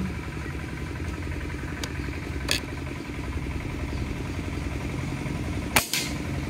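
Two sharp, short cracks of a Nimrod PCP air rifle firing at a 37-meter target, several seconds apart, over a steady low mechanical hum.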